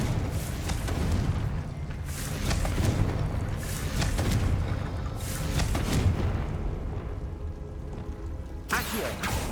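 Confringo fire-bolt spell bursts in the Hogwarts Legacy video game, a string of dull booming blasts and whooshes repeating across the span over a constant rumbling game backdrop, with a sharper crack near the end.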